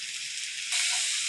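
Pabda fish mustard masala sizzles in a pan, a soft steady frying hiss that swells suddenly brighter partway through, heard alone without talk.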